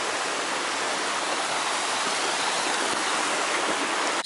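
Stream flowing beneath a substantial footbridge on a footpath, a steady loud rushing of water with no pause, close and alone.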